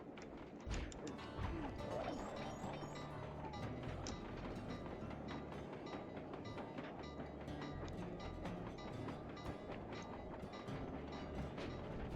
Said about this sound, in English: Train doesn't get close enough.